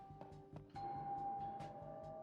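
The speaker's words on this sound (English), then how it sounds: "Was that a doorbell? Is someone at the front door?" A doorbell rings inside the horror video game The Tartarus Key, sounding as a faint sustained chime tone over soft repeated low thuds in the background.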